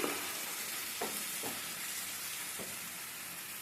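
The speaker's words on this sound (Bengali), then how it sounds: "সমস্ত গুঁড়ো মশলা, একটু রসুন পেস্ট, একটু আদার গুঁড়ো একবারে তেলের মধ্যে দিয়ে কষে নেবেন" Ground spices, garlic paste and ginger powder fry in hot oil with a steady, close sizzling hiss, broken by a few soft stirring scrapes; no one speaks.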